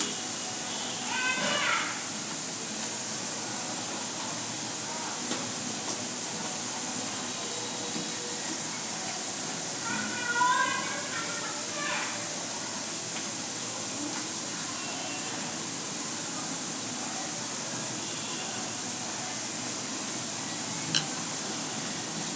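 Egg and gram flour snack frying in hot oil, giving a steady broadband sizzle and hiss that runs the whole time at a moderate, even level, with a few faint clinks and brief background voices.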